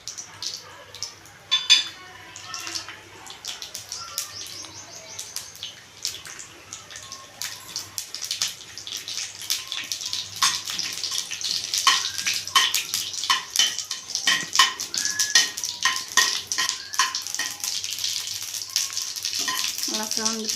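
Mustard seeds and urad dal crackle and spit in hot oil in a kadai for an amaranth greens stir-fry, a dense stream of sharp pops and sizzling that grows busier and louder over time.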